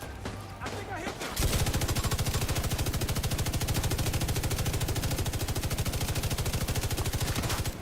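Sustained automatic machine gun fire in The Division 2 video game, a long rapid burst of evenly spaced shots that starts abruptly after a second of quieter game sounds and carries on loud and unbroken.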